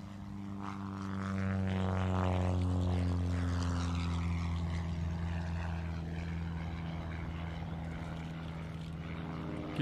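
A B-25 bomber makes a level flyby at an airshow, its propeller engines swelling into a loud, throbbing drone that peaks and then lingers as it passes, with no talk over it.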